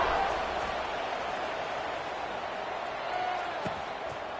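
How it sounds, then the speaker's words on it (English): A stadium crowd in College Football 26 gives off a continuous, dense roar that swells slightly toward the end, with a commentator's voice over it. "this crowd is buzzing after that last score"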